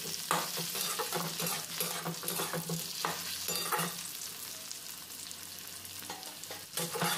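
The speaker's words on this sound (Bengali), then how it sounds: "এবার এর মধ্যে দিয়ে দিচ্ছি ভেজে রাখা বেগুন আর আলুটা, দিয়ে ভালো করে মিক্স করে নিতে হবে পেঁয়াজের সঙ্গে নাড়াচাড়া করে।" Fried eggplant and potato being stirred with onions in a pan, a steady sizzle of frying under continuous scraping and stirring throughout, with no talk.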